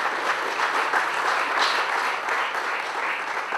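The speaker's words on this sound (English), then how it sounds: "please give a big round of applause to Professor Narlikar" An audience at a scientific lecture gives Professor Narlikar a sustained round of applause, even, dense clapping filling the room with no talk over it.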